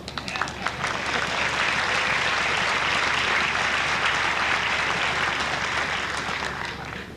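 An audience at a 1990 Illinois Institute of Technology commencement ceremony applauds doctoral graduates, sustained dense clapping from a large crowd filling the hall for several seconds.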